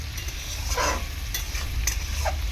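A wok of potatoes and shrimp sizzles continuously up close, with a few brief scraping stirs and small clicks over the hiss.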